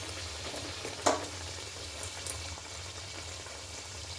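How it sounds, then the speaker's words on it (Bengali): Bread slices shallow-frying in hot oil, a soft continuous sizzle and bubbling that stays fairly quiet, with one brief sharp crackle near the start. "এবার সেই পাউরুটিটাকে ভালো করে তেলের মধ্যে সেঁকে নেব বা ছেঁকে নেব"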